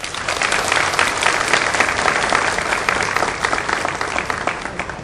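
Steady, dense applause from a large audience at a solemn ceremonial session of a state legislative assembly in Mato Grosso, continuous and even throughout with no talking.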